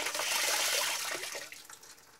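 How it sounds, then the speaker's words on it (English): Water runs from a faucet at a low, thin trickle while a bottle is rinsed during private well water screening. The rushing hiss holds steady and close, then fades and turns sputtery toward the end. No voices. "turn the faucet low so the water is only about the width of a pencil"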